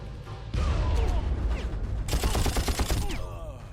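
Rapid bursts of gunfire and explosive blasts fill a fight inside a volcano in the video game Far Cry, loud and dense, with several rattling volleys in quick succession.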